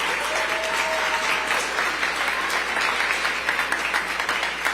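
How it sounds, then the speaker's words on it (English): Steady applause from an audience at a New York City mayoral announcement on early childhood education, even and continuous throughout with no pauses. "let's give him an applause for putting dollars behind that"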